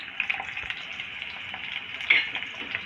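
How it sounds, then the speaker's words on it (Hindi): Chopped onions drop into half a cup of hot ghee and fry with a steady, close sizzle and crackle, with a brief louder burst partway through. "घी है आधा कप। ये घी गर्म हो गया। अब इसके अंदर हम ये प्याज डाल रहे हैं।"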